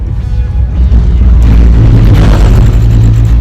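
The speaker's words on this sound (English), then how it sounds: "That sound is understeer, and we got understeer because we've transferred weight back." A car circling a skidpad under power scrubs its front tires in understeer, a loud, close rumbling roar of engine and tire noise that swells sharply partway through and holds steady.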